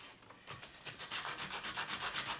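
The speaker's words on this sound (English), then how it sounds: "make some sawdust with the type of wood" Steady back-and-forth rubbing of sandpaper on wood to make sawdust, a dozen rhythmic strokes close up after a quiet start, no voices.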